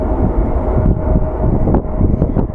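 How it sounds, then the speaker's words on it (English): A small Embraer regional jet at Phoenix Sky Harbor International Airport gives a loud, steady low roar with wind buffeting the microphone, a few brief rattles near the end. "And there's a little Embraer."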